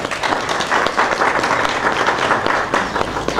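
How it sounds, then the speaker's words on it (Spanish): Audience at a book launch claps in a steady, dense burst of applause that fills the room at close range, sustained throughout with faint crowd murmur. "Un fuerte aplauso."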